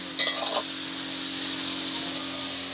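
Food sizzles steadily in a pan on a wood-fired clay stove, a continuous bright hiss with a couple of short clatters of stirring near the start.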